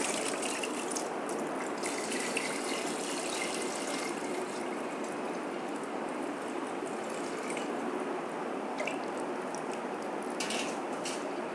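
About two kilograms of water is poured into a pressure cooker holding beef trotters for nihari, producing a steady, close, continuous rushing pour.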